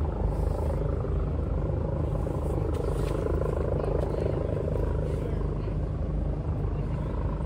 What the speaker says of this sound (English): There's a helicopter ahead, so there may be a bit of noise